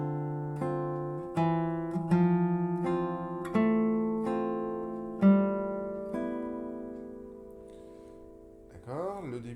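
Plucked guitar notes from Leo Brouwer's Étude IV ring out one after another in a slow, stepwise melody, each backed by a soft mini-barre chord on strings 1 and 2, ending with a quick bending twang.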